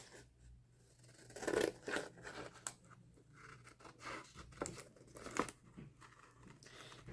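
Scissors cut through a cardboard snack box piece up close, making faint irregular snips and crinkling rustles at a quiet level, with no talk.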